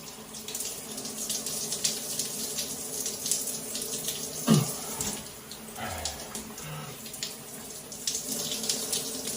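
Cold water running from a shower, a steady close splashing hiss that continues throughout, broken by a brief louder splash and gurgle near the middle.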